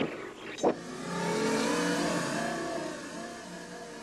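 A synthesized motorcycle engine sound revs up and holds a rising, whining drone, like a motorcycle pulling away, after a brief sharp click.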